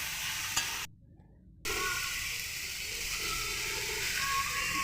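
Chopped tomato and onion fry and get stirred in a pan, making a moderate hissing sizzle with soft scrapes, cut off by a brief silence early on.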